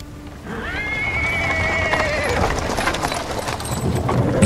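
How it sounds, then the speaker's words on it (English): In a video game, a horse whinnies loudly up close, then hooves clop and cart wheels rumble over paving stones in a busy, continuous clatter. "He is interrupted by the sound of wheels rolling on the paving stones."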